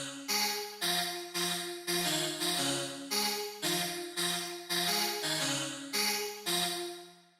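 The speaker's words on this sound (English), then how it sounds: "that little sine pluck thing" A layered sine pluck synth doubled an octave lower, playing a steady melodic sequence of bright, short plucked notes with clear tonal pitches, evenly spaced and moderately quiet, with no other sounds.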